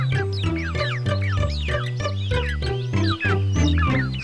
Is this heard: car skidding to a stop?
no